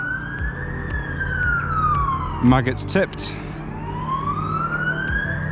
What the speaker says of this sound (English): Ambulance as well going past first thing in the morning